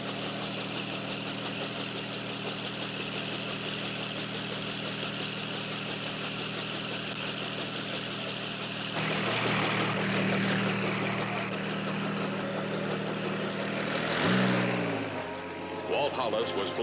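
A helicopter engine runs steadily, with a rapid rotor chop and a deep drone. It swells louder partway through, heard close and continuous.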